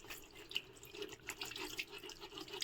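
Water being poured a little at a time while clothes are washed by hand, a soft trickling and splashing with small drips, fairly faint and close, with no voices.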